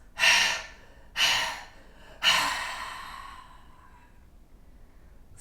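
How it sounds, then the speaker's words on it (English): Three deep exhales during a yoga session for easing a cold, each a breathy rush of air, the first two short and evenly spaced, the third longer and trailing off into quiet. "Deep breath in. And 3 exhales."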